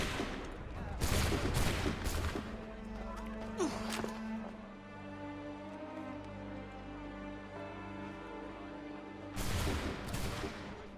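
A musket volley in Assassin's Creed III, a dense crackling fusillade of several shots at once, followed by quieter rumbling ambience and a second burst of shots at the end.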